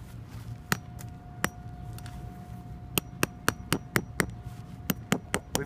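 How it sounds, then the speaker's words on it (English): A hammer drives a landscape staple into hard soil with a run of sharp, close strikes. A few scattered blows come first, then a quicker, steady series of impacts, with no talking. "hammer in our next one"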